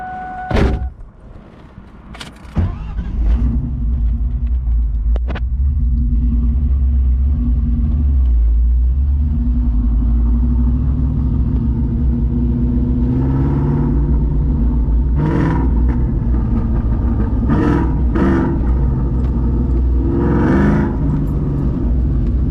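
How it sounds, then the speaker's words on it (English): A car fitted with Roush mufflers, long tube headers and an X pipe starts with a door thump, then settles into a deep, loud, steady exhaust rumble close by, with a few brief louder blips later on. "Sounds pretty good with the long tube headers, with the matching X pipe."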